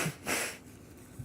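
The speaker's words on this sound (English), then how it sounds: "I'm not ashamed to maybe blow my nose on camera because we all do it." A person sniffs and blows their nose in short, close, soft bursts, a brief breathy blow followed by a quick sniff.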